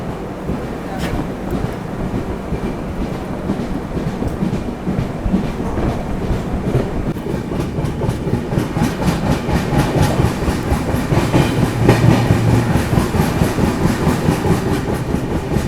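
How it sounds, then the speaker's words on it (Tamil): Passenger train travelling from Rajapalayam toward Bengaluru, heard from inside as a continuous loud rumble with rhythmic wheel clatter that grows more pronounced later on. "ட்ரெயின் பார்த்தீங்கன்னா 11:15 வந்துட்டு ஒரு 5 நிமிஷம் வச்சு டக்குன்னு கிளம்பிட்டாங்க"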